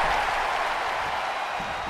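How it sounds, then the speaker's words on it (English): Loud, continuous roar of a packed wrestling arena crowd at AEW All Out 2024, a dense wash of cheering and applause sustained throughout without a break. "The sound of this crowd is deafening"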